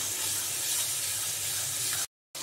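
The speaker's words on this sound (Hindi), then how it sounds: "मसाले को अच्छे से भूनेंगे।" Masala spices frying in hot oil in a pan for a chicken chana masala, a steady loud hiss with no talk, cutting to silence briefly near the end.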